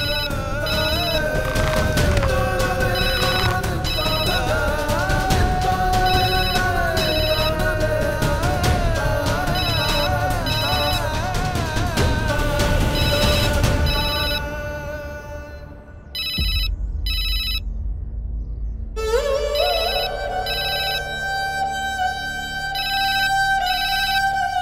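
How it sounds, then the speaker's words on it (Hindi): A telephone rings unanswered in a Hindi TV drama, its repeating electronic trill pulsing steadily over loud dramatic background music and continuing after the music dips. "फोन क्यों नहीं उठा रही है?"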